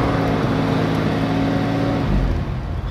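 A Mercedes-Benz car engine runs steadily just after a push-button start, a loud, close, continuous rumble with a low tone that shifts slightly near the end.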